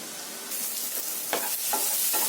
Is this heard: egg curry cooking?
yes